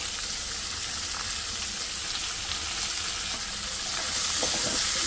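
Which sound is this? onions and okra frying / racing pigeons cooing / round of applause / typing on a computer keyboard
onions and okra frying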